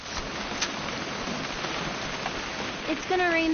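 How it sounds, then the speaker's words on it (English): Rain falling in the video game What Remains of Edith Finch, a steady, soft hiss of drizzle throughout, briefly joined by a voice at the end. "It's gonna rain the whole weekend, isn't it?"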